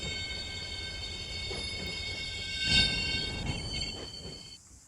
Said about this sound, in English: We got the train going over the hump at Barstow.